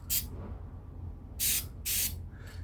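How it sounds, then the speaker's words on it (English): An Umarex airgun being spray painted: short, sharp hissing bursts of aerosol paint, four of them, close up, separated by quiet pauses. "if you notice while you're spraying, you get a dry spot"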